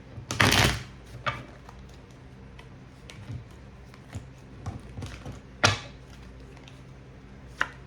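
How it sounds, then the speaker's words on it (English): Tarot cards are shuffled in quick riffling bursts, a loud flurry near the start, then softer taps and flicks in an otherwise quiet room. "Just gonna do a quick shuffle here."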